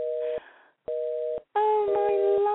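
A telephone busy signal plays loud and close through a line during a radio call-in show: two clean tone bursts with gaps between them, then a longer stretch of layered tones with clicks.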